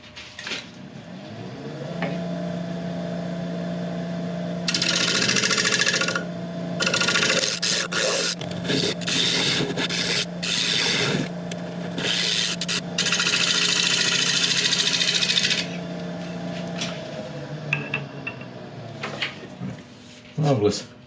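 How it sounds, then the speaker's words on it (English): A woodturning scraper cuts into a very hard apple log spinning on a lathe, giving rough, raspy scraping bursts over the lathe motor's steady hum, with pauses between passes. "I'll just quickly do that with a scraper, I think."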